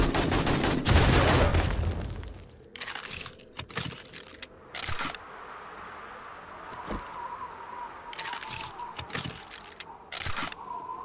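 Gunfire in the co-op survival game 7 Days to Die, with a loud burst of shots at the start and then scattered sharp single shots and impacts over a quieter game ambience.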